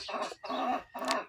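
Laying hens on a small poultry farm cluck in three quick, close bursts, their throaty calls near and fairly clear.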